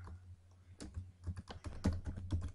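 Computer keyboard keys are pressed in a quick, uneven run of close clicks while a web address is typed, over a low steady hum.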